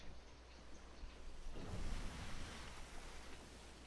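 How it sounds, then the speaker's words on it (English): Ocean waves wash around a pirate ship in a video game, a steady broadband surf with one louder swell near the middle, carrying on alone without talk. "Because of the waves."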